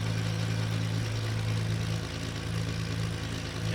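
Twin piston engines of a Beechcraft Duke idling on the ground just after start, a steady droning hum with a strong low tone and constant vibration, loud and unbroken with no talk.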